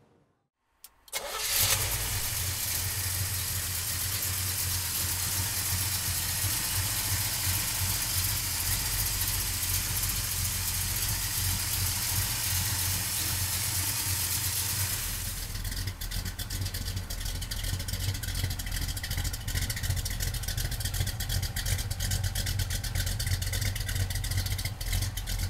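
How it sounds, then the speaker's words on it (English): A 1972 Chevrolet Nova with a 383 stroker V8 cranks and fires up after a moment of near silence, then settles into a loud, rough, steady rumbling idle that keeps going, with a slight shift in tone about halfway through. "we'll fire this 383 stroker up for you right now"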